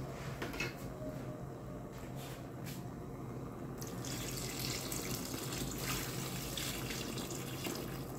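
Water runs steadily into a cooking pot while sardine soup is prepared, a continuous close splashing flow with a brief shift in tone partway through, no talking.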